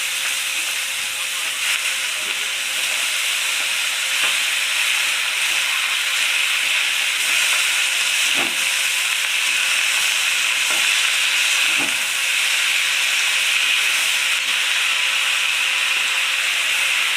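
Leafy greens hit a hot pan of fish curry with chilli, salt and turmeric, giving a steady, close frying sizzle and hiss throughout, with a few faint clinks and stirring sounds.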